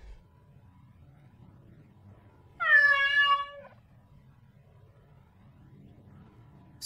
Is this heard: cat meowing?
yes